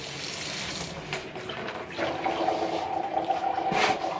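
Water starts running through a portable water system in an off-grid cabin, a soft hiss that swells into a stronger rushing flow after a couple of seconds, close by and alone.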